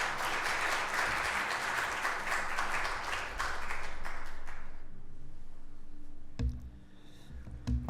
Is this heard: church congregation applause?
yes